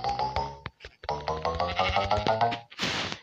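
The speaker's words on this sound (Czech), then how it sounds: "Ta blbá ovce, se mi tam bude žrát i tu trávu, tak ji zabiju." A Minecraft sheep bleats several times in a row, close and clear, each call a short wavering cry, followed by a brief rustling burst.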